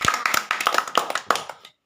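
A small group claps loudly at a village ludo pawn-rolling game, a short burst of sharp, close hand claps at an uneven rhythm that thins out and stops before the end.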